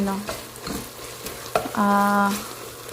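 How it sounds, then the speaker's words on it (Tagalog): Onions roasting in a frying pan for a Pakistani beef dish, being stirred with scraping utensil strokes over a bright sizzle, with a louder sustained hiss near the end; close and fairly loud, no talk. "hayaan muna natin yung sibuyas maging like roasted"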